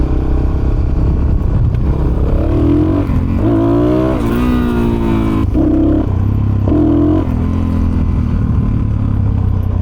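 A Suzuki DRZ400SM motorcycle with a carburetor not quite set up right runs loud and close, its engine climbing and dropping through several revs over a steady rumbling idle.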